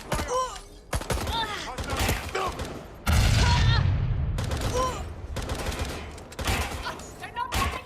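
Gunfire in the Watch Dogs: Legion video game, with rapid bursts of shots and heavy booming blasts, loud and close, mixed with game effects and a voice speaking briefly.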